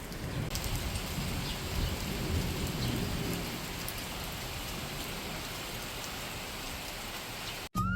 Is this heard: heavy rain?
yes